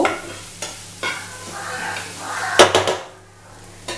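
A spoon stirs dry spices in a pan for a noodle keema omelette, making scraping, clinking strokes with a soft sizzle, including a sharp metallic clatter midway, close up and with no talk.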